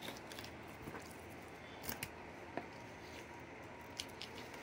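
A knife works ribs out of a flathead catfish fillet in short wet crunching cuts and snips, quiet and close, with no talking.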